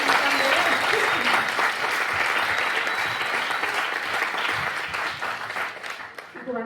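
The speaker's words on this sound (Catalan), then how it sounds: "Un aplaudiment pel Jordi Gaig, que està també." An audience applauds at a music and poetry inauguration event, dense sustained clapping that gradually thins and fades toward the end.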